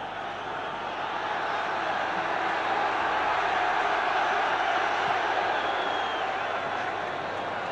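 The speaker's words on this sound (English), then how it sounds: "The boos of the Irish crowd on that far side" Irish rugby crowd booing from the far side of the ground during the 1985 Five Nations match against France, a steady, broad roar of many voices that holds throughout, crowd noise only.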